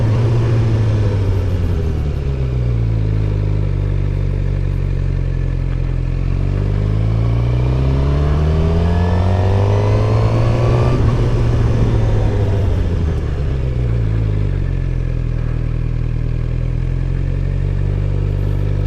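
A learner's motorcycle engine revving up and easing off as the rider accelerates, brakes and leans through repeated slow turns, with a steady close rumble whose pitch rises and falls in smooth waves and no talking.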